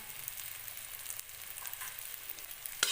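Cumin, coriander and vegetable masala powders fry in hot oil for a fish curry, making a steady, moderate sizzle that ends in a sharp clack.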